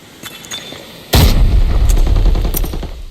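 A grenade bursts in the Arena Breakout shooter game with a loud, close boom and a long rumbling tail. Faint game noise and a couple of sharp shots come before it, and further gunfire cracks ring out over the fading blast.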